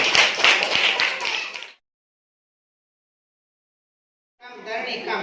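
Children clapping together in a classroom, a dense burst of applause for about two seconds, then silence before a second softer round of clapping begins near the end.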